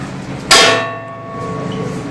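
A single metallic strike of a large engine telegraph bell aboard a tanker ship rings out sharply, then its clear tone slowly fades away against a quiet background.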